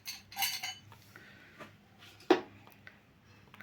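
A metal disc dropped into a puttu steaming vessel, a brief clattering scrape followed by one sharp metallic clink, close and quiet.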